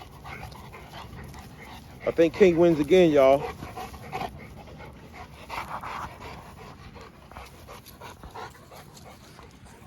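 An XL Bully dog pants and whimpers close by in quick bursts, loudest early on, while someone talks over and around the sound.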